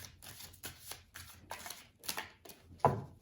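Tarot cards are handled, a string of soft papery slaps and riffles in uneven bursts, fairly quiet and close, with a sharper flick near the end as a card is drawn.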